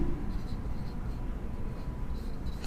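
A pen steadily scratches across a surface while writing out the general solution to a linear differential equation, a continuous close, low-level scraping with no one talking.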